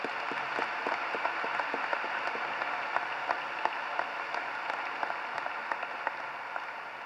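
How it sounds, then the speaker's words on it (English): Applause for class advisors at the 2017 North Kingstown High School graduation ceremony, a steady broad wash of many hands clapping with sharper individual claps popping out, sustained throughout at moderate distance. "Join me in giving these 2 adults and Dr. Mansiri a round of applause"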